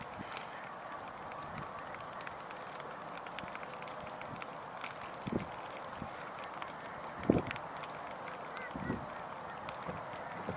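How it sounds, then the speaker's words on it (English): Mallard ducks call outdoors over a steady ambient background, their honking quacks arriving faint and scattered, a few standing out slightly louder. "I hear mallards out there."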